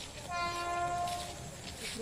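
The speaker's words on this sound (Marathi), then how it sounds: "तो आला ट्रेनचा आवाज." A train horn sounds in a long steady tone over rumbling rail noise near rice fields in Badlapur, moderately close, with faint background chatter.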